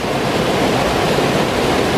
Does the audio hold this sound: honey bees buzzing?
no